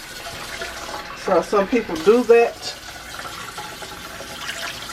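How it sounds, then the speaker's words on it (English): Water poured from a container into a 2.5-quart slow cooker before a liner goes in, a short run of gurgling splashes in the middle, with a person talking quietly around it. "I'm putting water down here before I put in my slow cooker liner"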